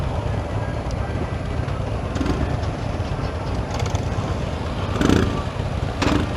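A 2016 Harley Davidson Slim S rumbling steadily during a test ride, a close, loud low engine drone with wind buffeting and brief surges, no clear talk.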